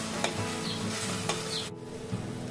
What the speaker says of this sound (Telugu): ఇప్పుడు కొంచెం అల్లం వెల్లుల్లిపాయ పేస్ట్ వేస్తున్నా